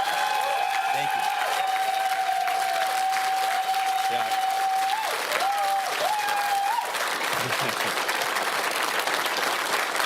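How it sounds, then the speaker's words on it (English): An election-night crowd gives a sustained round of applause for the candidates, a dense, even wash of clapping that runs the whole time. A voice and faint tonal sounds carry over it. "we can get a round of applause to every single candidate that ran for us."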